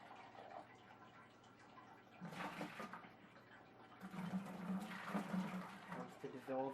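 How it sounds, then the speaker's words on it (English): Boiled water poured into a home-brew bucket to dissolve sugar before bottling: two splashing, rushing pours of moderate loudness with a short pause between them. "in order to get it mixed up, before we put the brew in, we use some boiled water."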